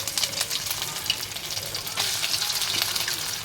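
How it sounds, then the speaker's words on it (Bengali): Sausages sizzle and crackle in a frying pan, a steady dense hiss with small pops and occasional stirring clatter, close and fairly loud with no talking. "সসেস ভাজতেছে, রান্না করতেছে কিন্তু ওরা"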